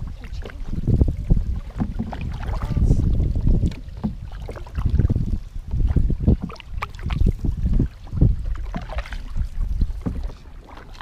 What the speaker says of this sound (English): mom is paddling in the front